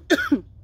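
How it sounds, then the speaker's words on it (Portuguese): Two quick coughs in a row, close and fairly loud, with silence after. "Ai, começou a minha tosse."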